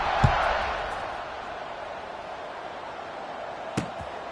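A stadium crowd buzzes at a college football game in the fourth quarter, a continuous broad roar of many voices at a distance, with a couple of sharp thuds standing out briefly.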